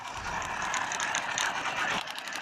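A mini battery-powered toy sewing machine running on four cells stitches a handkerchief with a continuous fast mechanical whirring and rattling that stops near the end.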